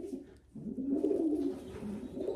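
Racing pigeon in a loft cooing close by, a soft, low, rolling coo that swells and lingers over about two seconds with faint room noise around it.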